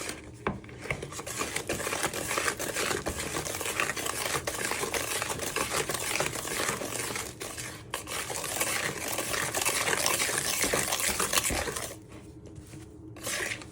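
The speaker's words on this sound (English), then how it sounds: "You just want to give it a good whisk." Thick red velvet cake batter is whisked in a bowl, a continuous close wet swishing and tapping that runs steadily and stops briefly twice, with no talk.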